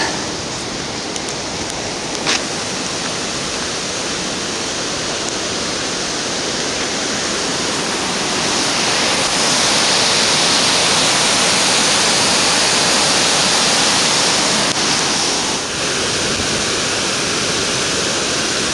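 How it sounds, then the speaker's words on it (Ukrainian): Rushing water roars continuously, a loud, dense wash of white noise with no pauses, like a fast river or waterfall close by. "Вирує тут вода."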